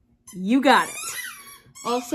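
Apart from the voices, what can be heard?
squeaky dog toy ball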